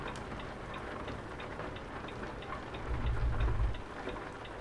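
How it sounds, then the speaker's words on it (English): Steady rain in the truck-driving game Euro Truck Simulator 2, a constant broadband patter heard from inside the cab, with a low rumble swelling briefly near the end. "That's why we need to get rid of some of this rain."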